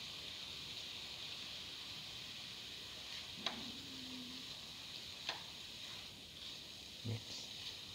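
Green chilies hit a hot pan while a sardine coconut stew is cooking, giving a steady, soft sizzling hiss with a few faint clicks and stirring touches.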